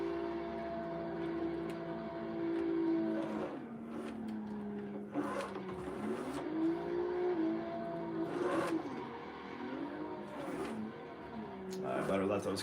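A stock pink BMW M3 drifting in the Assetto Corsa video game, its engine droning and revving up and down after a clutch kick, heard steadily under someone talking throughout.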